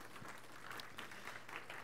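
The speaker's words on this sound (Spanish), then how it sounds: "Dale un aplauso si tú estás bendecido con tus grupos reto." A church congregation applauds steadily for a couple of seconds, a soft, distant wash of many hands clapping without pause.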